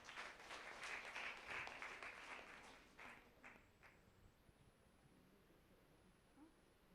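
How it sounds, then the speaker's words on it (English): An audience at a school World Science Day event applauds, a burst of clapping that is strongest at the start and fades away over several seconds to a quiet room. "Let's give them a huge round of applause."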